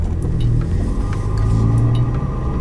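Ford Fiesta ST turbo (2017) with an aftermarket intake under a cracked throttle, giving a steady low engine rumble with a faint whooshing suction layered on top, continuous and close throughout.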